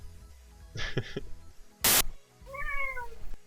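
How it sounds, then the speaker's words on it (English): A house cat gives a couple of short meows, followed by a sharp burst of static and then a longer, rising and falling meow, fairly close and heard alone without talk. "Wonder if the mic can pick up my cat."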